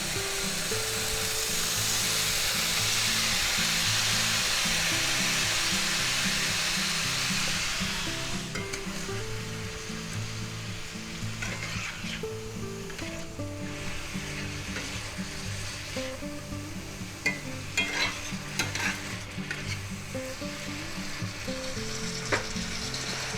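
Vegetables stir-frying with minced garlic in a pan for a spicy chicken stir-fry: a loud, steady sizzle at first that settles into a softer crackle, with scraping and clattering stirring and occasional sharp knocks, no one talking.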